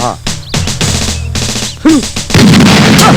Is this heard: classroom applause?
no